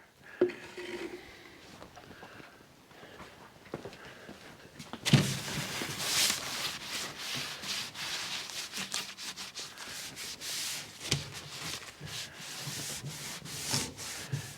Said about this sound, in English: we got to hit this with the wax and grease remover